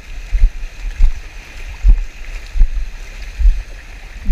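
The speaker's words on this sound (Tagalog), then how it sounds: "Uy, malalaki yung alon." Big waves slosh and slap against a small fishing boat out on the water, with low, rolling surges that swell and fade in repeated pulses, close and fairly loud, alongside a faint steady background hiss.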